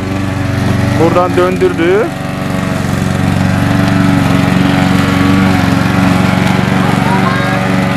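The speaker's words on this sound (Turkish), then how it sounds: "Görüşürüz çim biçme makinesi." A lawn mower engine runs with a steady, close droning hum throughout, while a person speaks briefly near the start.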